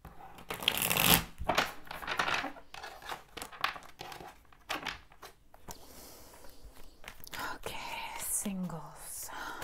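A Radiant Rider-Waite tarot deck is shuffled by hand in repeated papery riffles and rustles, close and fairly soft, with quiet whispering and light handling noises in between.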